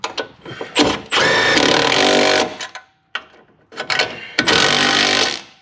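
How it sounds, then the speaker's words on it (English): Lock nuts being tightened by hand onto shock absorber U-bolts under a 1996 Chevrolet Impala SS, heard as close, loud bursts of mechanical whirring or ratcheting in two main stretches separated by brief pauses and clicks. "with one hand I can just go in here and tighten this up"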